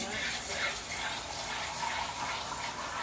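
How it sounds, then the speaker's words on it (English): Tap water pours steadily into an empty tomato sauce can while goulash is being made, a close, continuous hissing gush that fills three seconds with no pause. "I'm gonna put some water in our tomato sauce can."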